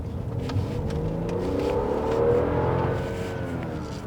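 A tuned BMW F02 740Li with an N55 engine revs on the throttle, its loud, steady engine note climbing to a peak midway before easing back, with no talk over it.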